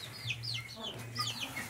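A hen in a backyard coop calls her chicks with soft repeated clucks as high peeps from the chicks chirp over them, close by with a low background rumble.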